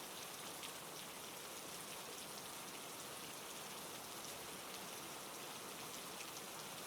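Steady, calm rainfall patters evenly on surfaces, a dense unbroken hiss at a soft, constant level throughout, with no voices or other sounds.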